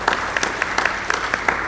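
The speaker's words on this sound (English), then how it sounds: "Give yourself a round of applause" Congregation at a spiritual service applauds together in a short, full burst of clapping that fills the room evenly, with a few louder claps popping through.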